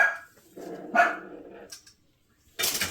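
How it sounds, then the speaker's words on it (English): A dog barks several times in quick, uneven bursts, fairly close, with short quiet gaps between the barks. "There goes Missy dog barking because she can hear people in the hallway"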